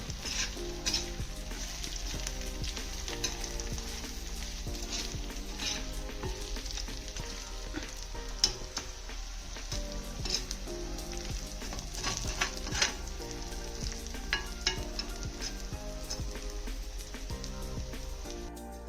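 Chicken frying in oil with dried red chili, a steady crackling sizzle with frequent sharp pops and occasional stirring scrapes, close and continuous throughout.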